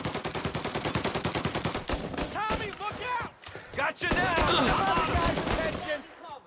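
Gunfire in Mafia: Definitive Edition chatters in rapid, repeated automatic bursts, loud and close, with short pauses between volleys and voices under the shooting.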